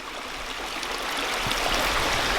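Creek water flows steadily as a constant, close, broadband wash with no break and no voices, like a small stream running over rocks.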